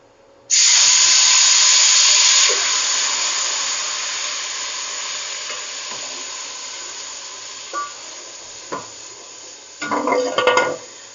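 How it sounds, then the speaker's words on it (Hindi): Ground onion and yogurt paste hits hot frying oil with a sudden loud sizzle that gradually settles into a steady hiss, followed later by a few spoon clinks and stirring noises against the pan. "प्याज और जो दही था उसको मैंने ग्राइंडर में डाल के ग्राइंड कर लिया है। मैं इसमें डाल दूंगी ऑयल में"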